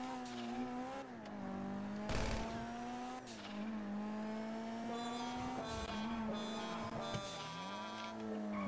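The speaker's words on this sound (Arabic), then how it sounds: "ده صوت الكلاكس اللي انا حاطه" A custom car horn on an armored Kuruma in GTA Online blares as a sustained, wavering multi-tone melody, fairly faint, with engine and tire sounds underneath in game.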